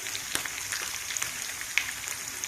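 Mustard seeds, cumin and garlic tempering in hot oil in a pan, a faint steady sizzle with small scattered pops and crackles, close and quiet, with no talking.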